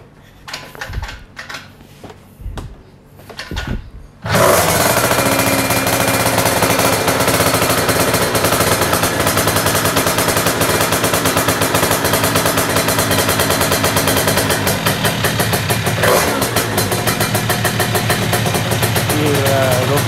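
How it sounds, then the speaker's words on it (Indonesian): A two-stroke Honda Dio scooter engine in a garage bursts into life after a few sputtering attempts, then runs very loud and raspy with a rapid crackling exhaust beat that holds steady, briefly revving. "Agak berisik kan suaranya di mesin."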